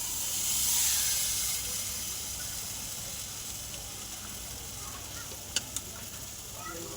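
Chicken pieces hit a hot wok and hiss, a soft steamy sizzle that swells briefly at the start, then settles into a faint, steady hiss.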